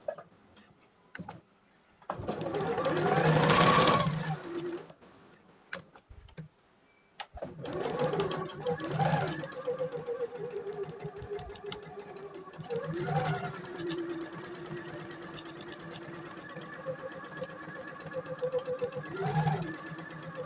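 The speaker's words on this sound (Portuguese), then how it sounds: "vamos lá costurar o que tem que ser costurado para a gente poder montar esse vestidinho" A sewing machine stitches the pieces of a small doll's dress, giving a loud, steady run at first and then several shorter bursts later. Faint talk can be heard underneath.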